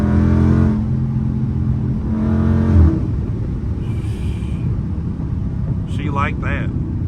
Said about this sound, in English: I'm in street mode, barely pressing the gas.